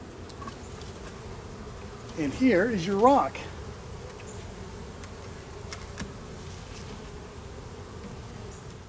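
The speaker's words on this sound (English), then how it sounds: "this is a huge population of bees" Honeybees from a large hive colony buzz in a steady, dense drone throughout an outdoor hive inspection, while a person briefly speaks over the hum.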